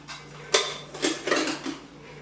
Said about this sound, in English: I wrap up our silverware and such in a towel that I'm going to use for drying